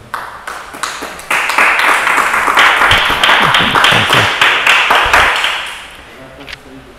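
A church congregation claps together in praise, loud and close, a dense run of rhythmic handclaps that starts abruptly and fades out near the end.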